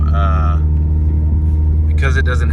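A DSM car's engine drones low and steady during a drive, running with undersized injectors and a stock fuel pump, with a constant close rumble throughout and a voice talking over it.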